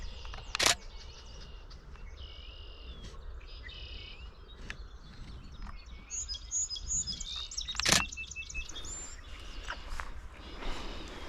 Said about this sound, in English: A red-winged blackbird